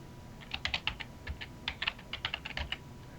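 A quick burst of close-miked typing on a computer keyboard, crisp rapid key clicks in uneven clusters with no talking over them.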